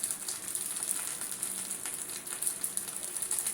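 Grated ginger sizzles in a cumin tempering, a faint, even crackle of hot oil that continues steadily with no talking.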